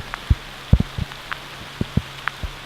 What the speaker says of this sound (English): See, I told you, now it's raining.